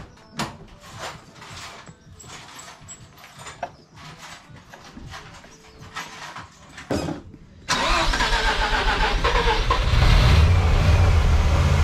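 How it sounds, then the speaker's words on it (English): Car engine cranking and then starting, with a few seconds of sporadic clicks and handling noises before a sudden loud catch into a rough, steady running roar that builds toward the end. "I'm gonna try to crank it real quick."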